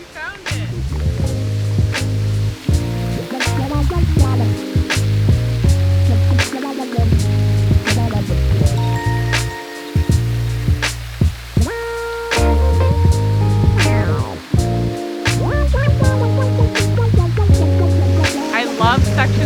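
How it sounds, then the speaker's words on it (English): A constant roar of a waterfall in Central Park, New York City, fills the background while music plays over it and a few voices are heard. "Did we find our waterfall? You found it."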